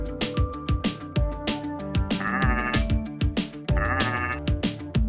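A goat bleats several times in quick succession, loud and close, with sharp wavering cries standing alone.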